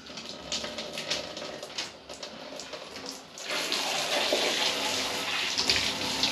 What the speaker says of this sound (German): Wir müssen dich jetzt duschen, mein Freund.